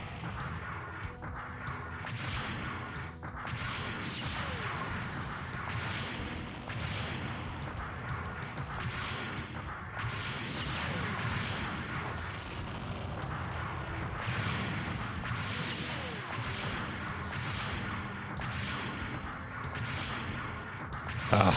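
Gunfire in the Mobile Suit Gundam game, a steady run of sharp repeated shots over dense roaring engine noise and music, with an aircraft passing overhead, fairly loud and continuous throughout.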